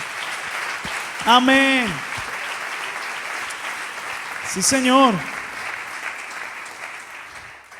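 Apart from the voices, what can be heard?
church congregation applauding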